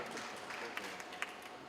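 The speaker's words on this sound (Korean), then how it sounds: "박수로 맞이해주시면 감사하겠습니다." An audience applauds at a K-pop group showcase, a steady wash of clapping from a crowd at moderate distance that holds through the short stretch with a few sharper individual claps.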